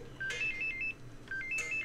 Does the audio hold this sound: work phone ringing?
yes